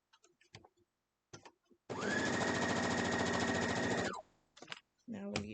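A short burst of sewing machine stitching joins sashing to a Harry Potter quilt top, a loud close buzzing run of about two seconds with talking before and after it.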